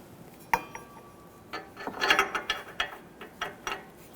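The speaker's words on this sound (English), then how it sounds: "Make sure my ratchet's going the right way." A socket ratchet clicks while fitted to the downstream O2 sensor on a 2007-2017 Jeep Patriot 2.4L L4, using a 22 millimeter socket. A sharp knock opens the clip, then a run of close, quick metallic clicks follows, with no talk.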